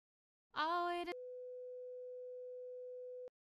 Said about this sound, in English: Let's add in a sine wave for 3 seconds